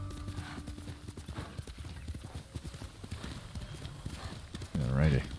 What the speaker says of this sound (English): Because I'm on a horse